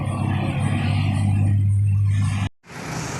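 A new Tunggal Jaya bus departs Palembang for Cirebon on its first run with a full load of passengers, its engine giving a steady low rumble that cuts off abruptly near the end.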